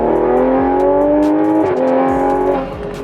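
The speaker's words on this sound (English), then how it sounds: "and then the exhaust, AW exhaust with the A90 Garage downpipe" Tuned Toyota A90 Supra with a B58 engine, ECU reflashed, fitted with an AW exhaust and A90 Garage downpipe, revving loud and close, the exhaust note rising and holding high before dropping off near the end.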